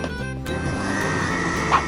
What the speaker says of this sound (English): And then we're going to blend it all together again.